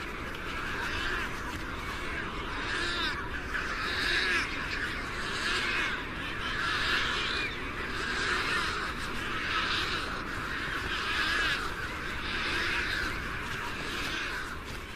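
Pelican colony at feeding time on a desert coast: a dense, continuous chorus of raucous calls and squawks from many seabirds, rising and falling in waves with steady background noise.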